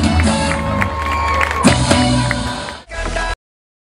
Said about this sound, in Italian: Signore e signori, un applauso per Siria Burgaretta e Mattia Trovato.